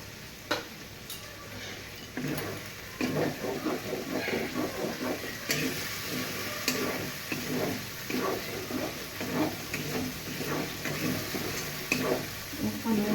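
Paneer cooking in masala and oil in a home kitchen pan, with a steady sizzle and repeated stirring scrapes over about ten seconds, close and fairly quiet, with no talking.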